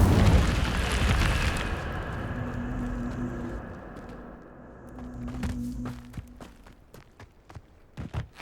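A fire spell cast in the video game Hogwarts Legacy erupts as a loud whooshing burst that roars briefly and then fades, with sharp crackling pops and scattered bangs trailing off, no one talking.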